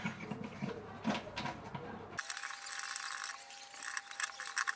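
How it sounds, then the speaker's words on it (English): Small metal rattles and clicks of bolts and wing nuts being refitted on a guitar bridge clamp, close and faint, with a soft ratcheting texture; the sound shifts abruptly midway to a thinner, hissier background. "I'm hastily refitting those bolts and wing nuts"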